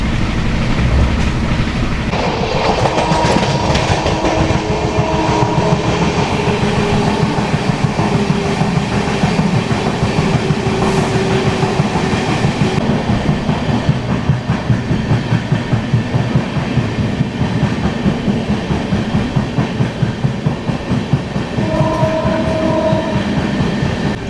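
The 22204 Duronto Express from Secunderabad to Visakhapatnam runs at about 128 km/h, giving a loud, continuous rumble with rapid rhythmic clickety-clack of the wheels throughout, and occasional tonal whines rising above it.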